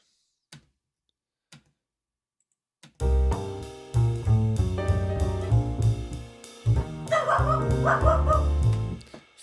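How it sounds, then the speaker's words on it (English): A dog barks repeatedly in loud, irregular bursts with yips and whimpering, preceded by a few faint taps in near silence. "Sorry, the dog."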